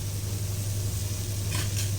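A dosa cooking on a hot pan gives a continuous, even sizzle, close and fairly loud, with a brief brighter crackle near the end and no one speaking.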